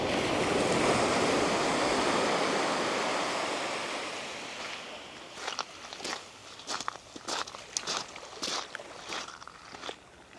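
Sea waves wash onto the Guernsey shore at Port Soif with a broad roaring surge that gradually fades, then crunching footsteps on stones take over, close and uneven.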